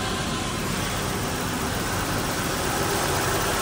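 A car with 107,000 miles idles smoothly, a steady, even engine hum with a constant drone and no breaks or rev changes.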